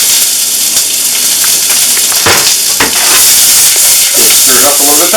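Onion and pepper hit a hot pan for a Southern beans dish, giving a loud, continuous sizzle and hiss with a few scraping stirs.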